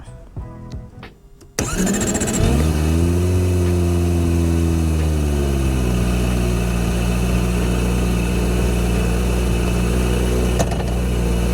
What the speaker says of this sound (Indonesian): Kita langsung hidupkan mesinnya.